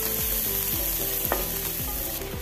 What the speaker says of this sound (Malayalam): ഇളക്കി കൊടുക്കുക. സവാള ഒന്ന് വാടി വരണം.